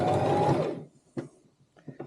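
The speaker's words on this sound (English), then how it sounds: "Just keep sewing." A sewing machine stitches fabric for a cosmetic bag in a close, buzzing burst that stops after under a second, followed by a few soft clicks and taps.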